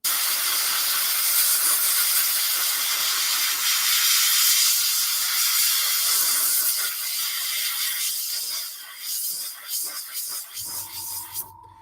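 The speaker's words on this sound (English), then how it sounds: "All I'm using this for is just the air to make sure the paint's dry." An airbrush blowing plain air to dry freshly applied paint, a loud steady hiss that fades in its last seconds as other sounds take over.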